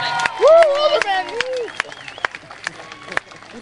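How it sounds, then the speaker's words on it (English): Outdoor concert crowd in Calumet City, Illinois, cheering and whooping with scattered clapping, loud shouted voices near the start, then sparse sharp claps and thinning cheers. "Let's give them a round of applause for allowing this to happen."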